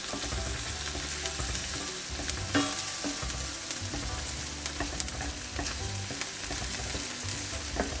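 Garlic and white onion sautéing together in a pan over low heat, a steady close sizzle with occasional stirring scrapes and crackles throughout, no talking.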